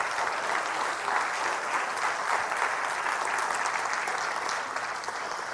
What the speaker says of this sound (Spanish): Un aplauso fuerte a ese rey.